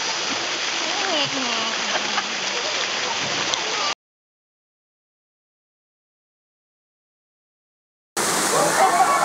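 Balete Falls, a waterfall in the Philippines, roaring as a steady close rush of splashing water with voices underneath, cut off by several seconds of total silence before the rush returns.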